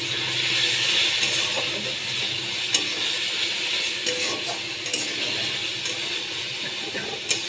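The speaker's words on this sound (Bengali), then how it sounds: "ভালো করে আমি কষিয়ে নিচ্ছি মশলা" Spices being stir-fried in a pan with a little water and ground cumin for a prawn curry, giving a steady close sizzle with occasional sharp clicks of a spoon against the pan throughout.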